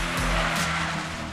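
A Toyota 86 with its 2.0-litre engine and manual gearbox revs hard in a short, loud burst, the engine note sweeping up and then tailing off within about a second.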